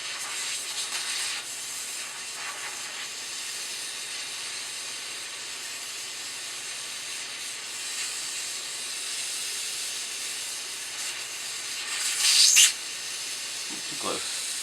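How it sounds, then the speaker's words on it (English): A gas torch roars steadily as it heats a metal roll bar for a model Chevy Blazer body, a continuous close hiss with a brief louder flare near the end. "Just needed to turn the torch up a little bit."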